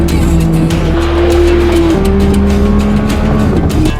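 A wrecked BMW M3 launches hard and accelerates, its engine loud and close with a rising, steady tone that steps through gear changes over a few seconds.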